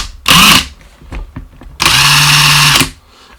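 Cordless impact wrench with a deep-wall impact socket undoing a 22 mm bolt: two loud, close bursts of whirring hammering, a short one and then a longer one of about a second, separated by quiet handling clatter.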